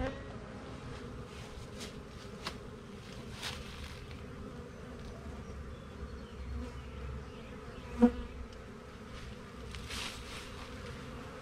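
Honey bees buzz steadily around hives during spring hive cleaning, a soft continuous hum with occasional nearer passes and a faint knock, no talk.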